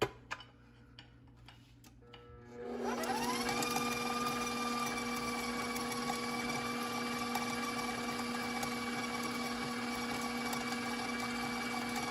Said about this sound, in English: Next, I'm going to cream my butter and vegetable shortening once again.